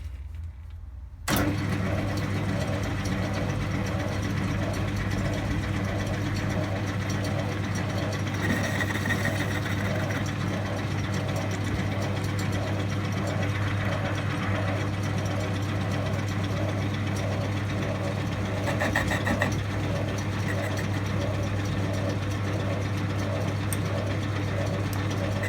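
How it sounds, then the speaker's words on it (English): Metal lathe running dry without coolant while turning a shotgun shell centering device: a steady, loud mechanical drone with a low hum and a rapid repeating whir, starting abruptly and continuing unbroken. "I'm just running this dry. Haven't had the coolant machine on for years."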